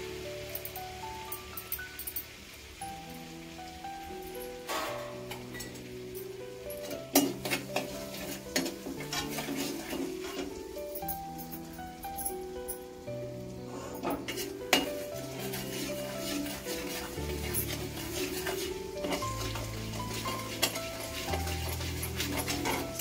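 Ginger-garlic paste being stirred in a pan with Malvani garam masala while making macaroni, a spoon repeatedly scraping and clinking against the metal with a soft sizzle underneath, steady and close throughout, alone without talk.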